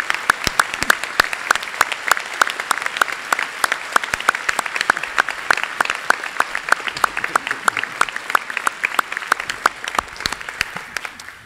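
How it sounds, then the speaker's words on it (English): An audience at an immigration lawyers' annual conference applauds, with sharp, sparse claps from a smaller group spread over about eleven seconds and trailing off at the end. "I think Margaret Stock deserves a round of applause."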